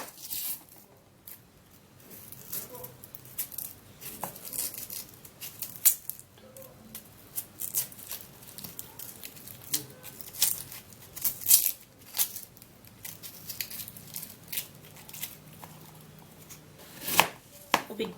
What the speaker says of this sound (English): So I'm gonna cut open the onion.